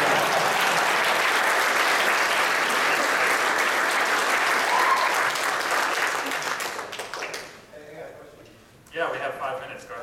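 Audience applause after a conference talk on Unix tooling, a dense, sustained wash of clapping from a large hall that thins out near the end, followed by a brief renewed burst.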